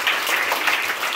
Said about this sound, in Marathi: एकदा जोरदार टाळ्या वाजवा त्याच्यासाठी.